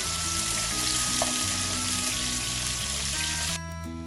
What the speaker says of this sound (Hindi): ऑयल हमारा गर्म हो चुका है, तो अब हम इसके अंदर 2 टीस्पून अदरक और लहसुन का पेस्ट शामिल करेंगे